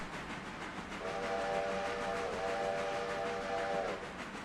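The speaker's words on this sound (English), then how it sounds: "But I can blow the whistle." A steam locomotive whistle in the Railroader video game sounds one long steady blast of about three seconds with a slight dip midway, over a constant rumbling background.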